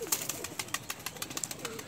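Faint, soft pigeon coos come through among a string of quick tapping clicks, close by and quiet.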